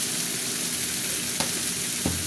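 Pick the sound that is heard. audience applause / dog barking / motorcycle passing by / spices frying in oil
spices frying in oil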